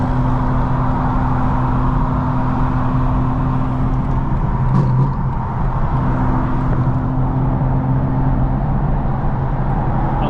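900HP 2025 BMW M4 Competition cruising, a steady engine drone with a constant low hum, heard from inside the car throughout with no talk.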